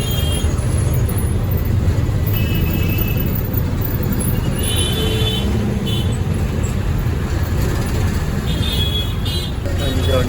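City bus travelling through busy Chennai traffic on MTC route 104T, a loud, steady engine and road rumble with surrounding vehicle noise and occasional faint horns.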